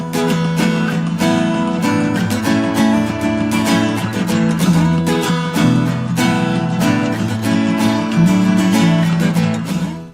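Guitar strums the intro chord progression of a song in standard tuning with open, no-barre chords, a busy continuous rhythm of ringing chords, loud and unaccompanied.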